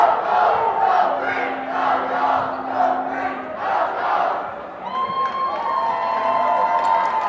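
A basketball crowd at a varsity boys homecoming game cheers and shouts after a dunk, a loud, swelling roar of many voices in a gym with whistle-like tones near the end.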